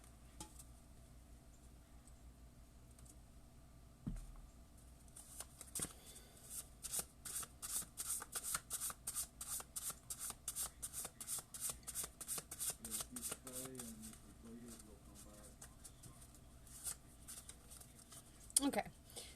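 Tarot cards being shuffled by hand during a card reading, a long run of quick riffling patters that builds, pauses and resumes, close and fairly quiet with a few soft knocks.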